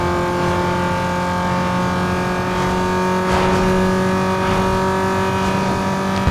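Car engine held at full throttle in Need for Speed Underground 2, a loud steady high-revving drone with sustained harmonic whine and slight pitch wavering, no shifts or speech.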